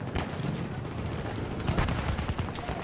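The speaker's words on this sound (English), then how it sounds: "Oh, it's a machine gun." Rapid machine gun fire in the Battlefield 1 video game, a dense, continuous stream of shots with heavy low rumble that swells louder toward the end, with no talking over it.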